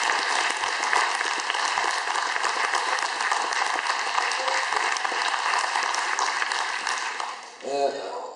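Sustained applause fills a hall at a short film festival as the audience claps for a guest, a dense, even roar lasting over seven seconds before a voice resumes speaking at the end.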